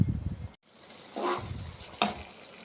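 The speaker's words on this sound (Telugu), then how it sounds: "ఈ పచ్చడి నూనె పైకి తేలే వరకు మనం హీట్ చేసుకుంటూనే ఉండాలి." Tamarind chutney (chinthakaya pachadi) cooks in oil in a pan, a steady sizzling frying hiss with a short break, a few stirring scrapes and one sharp clink of a utensil, with no voices.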